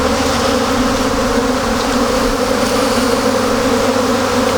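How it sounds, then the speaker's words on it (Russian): A large mass of honeybees on their cleansing flight after wintering at an apiary, a dense, steady, loud buzzing hum that fills the air without pause and with no voices. "пасека просто гудит"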